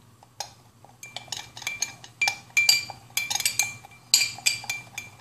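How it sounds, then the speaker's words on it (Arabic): A spoon clinks against a cup while ingredients, including a pinch of ground ginger, are stirred together. The bright taps come close and quick, in an irregular rhythm of repeated strikes with no voices. "نخلط المكونات جيدا"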